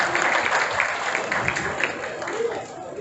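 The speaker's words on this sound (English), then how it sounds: "So one huge round of applause for him, please, everyone." A crowd claps at a college function, a loud, sustained patter of many hands filling the room, steady throughout and easing slightly at the end, with voices faintly underneath.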